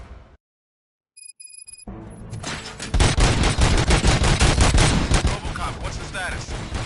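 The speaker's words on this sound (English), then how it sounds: "Gunshots? What's going on?" Gunfire in Robocop Rogue City on PS5 Pro: after a brief silence and a short tone, a loud, dense fusillade of rapid overlapping shots bursts in and keeps going close up.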